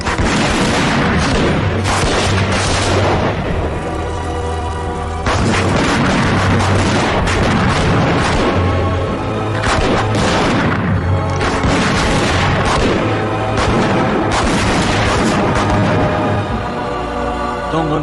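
Continuous heavy booms and rumbling blasts from a movie explosion scene, loud and dense with repeated deep impacts and roaring debris, running unbroken for the whole stretch.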